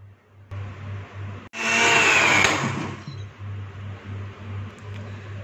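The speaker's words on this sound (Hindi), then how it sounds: "इसको हाई स्पीड पे ब्लेंड कर लेंगे।" A blender whirs at high speed through a mango kulfi mixture with cardamom powder, a loud broad roar that swells for about a second and a half, then drops back to a steady lower hum with a constant low motor drone.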